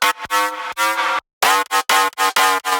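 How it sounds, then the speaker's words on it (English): A bright, buzzy synth shot sample from Serum repeats in short, loud stabs, with a brief gap near the middle and choppy, rhythmic cutoffs toward the end, alone. "the original synth shot sounds like this"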